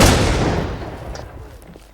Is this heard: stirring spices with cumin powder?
no